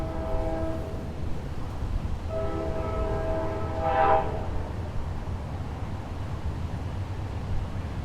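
Horn blasts from a passing train sound at a distance, a long tonal blast followed by a second long blast, sonorous and moderately loud over a steady rumbling background, with no speech.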